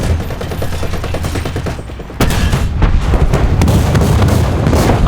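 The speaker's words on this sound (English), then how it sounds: "I'm shooting a bit too low." Heavy machine-gun fire from a Sherman tank's .50 cal in War Thunder, a loud sustained rattle of rapid shots that grows denser and louder after the first two seconds, with booming impacts mixed in.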